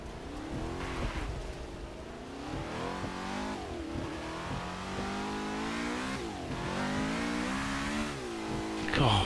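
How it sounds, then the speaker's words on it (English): A Lotus 67 race car on a wet Brands Hatch track spins its wheels in third gear, the engine note climbing and sweeping loudly up and down through several surges, close and continuous with a brief burst near the end. "wheel spin in third"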